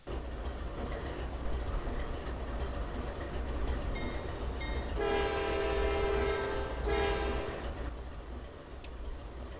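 CSX AC44 locomotive in the Trainz railway game: a continuous low diesel rumble runs throughout, broken by two loud horn blasts, a longer one followed shortly by a brief second sounding.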